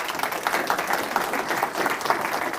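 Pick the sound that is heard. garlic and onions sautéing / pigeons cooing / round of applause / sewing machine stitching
round of applause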